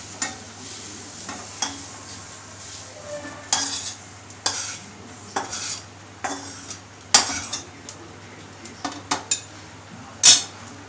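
Curry leaves and green chillies are stirred in a frying pan for curry leaf chutney, with a spatula scraping and clinking against the pan in irregular bursts over a faint sizzle. No one speaks.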